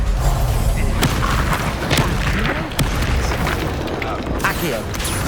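Spell blasts explode in the Hogwarts Legacy video game during a fight against Rookwood: loud repeated booming bursts with sharp cracks over a dense rumbling battle bed, while a voice shouts over them.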